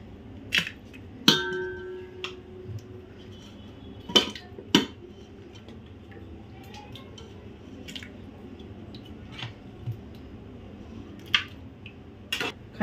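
Utensils clink and clank sparsely against a cooking pot as cooked rice is layered into it for chicken dum biryani, with sharp isolated knocks separated by quiet gaps.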